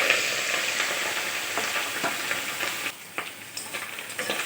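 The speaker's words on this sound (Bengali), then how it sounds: "এবার ওই তেলে মাছের ডিমটা আমি ভালোভাবে ভেজে নেব।" Fish roe frying in hot oil in the same pan used to fry potatoes, giving a loud, steady sizzle with stirring scrapes throughout and no talking.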